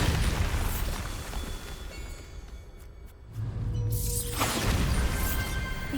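Bombarda blasting spell in Hogwarts Legacy, a deep booming explosion that rumbles and fades, followed by a second burst and crackling debris after a brief quieter gap.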